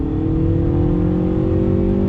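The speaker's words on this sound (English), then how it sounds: "on throttle, third gear, here we go" A 2020 Hyundai Veloster Turbo accelerates hard in third gear, its engine droning loudly and climbing steadily in pitch up close, heard from inside the car with no one speaking.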